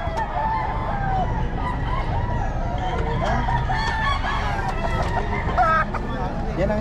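Several roosters crow and cluck close by among a group of fowl, with people talking in a busy background throughout.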